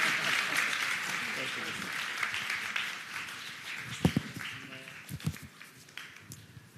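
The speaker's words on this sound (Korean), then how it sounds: "먼 길 오신 세 분께 박수 부탁드리겠습니다" Audience applause at a book concert, a fading wash of clapping with a few louder individual claps and footsteps toward the end, with voices in the background.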